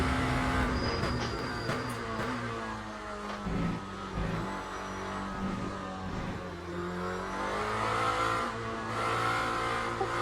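Lamborghini SC63 LMDh prototype in Le Mans Ultimate, its engine revving and dropping repeatedly through throttle lifts and gear shifts, loud and close with a brief tire squeal.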